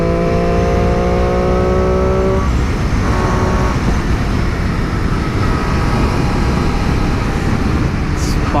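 Triumph Street Triple RS naked motorcycle accelerating hard with its quick shifter, a loud, steady engine roar under heavy wind rush, the pitch holding high with brief tonal changes as gears click through.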